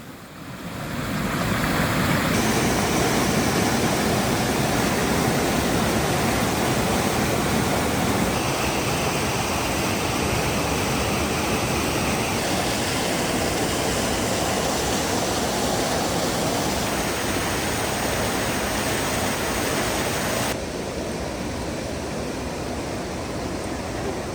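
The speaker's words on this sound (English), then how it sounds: "we're always up for stopping and checking out a cool waterfall, and this one was no exception along the Dunbar Brook in Massachusetts" Waterfall on Dunbar Brook in Massachusetts, a steady loud broadband rush of falling water that fills the whole stretch, with no voices over it.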